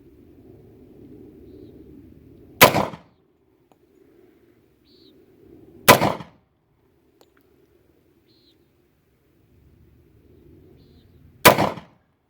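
A Star PD .45 ACP pistol fires three single loud, sharp shots spaced a few seconds apart, each with a short ringing tail, at an outdoor range. Quiet breaks separate the shots.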